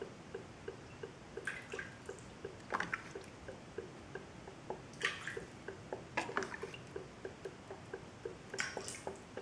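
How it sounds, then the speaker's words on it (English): Water trickling and dripping into a Petmate pet water dispenser bowl as the reservoir drains, a steady run of small wet drips with occasional louder gurgles, close and fairly quiet. "you could see it fill up as the water is coming out"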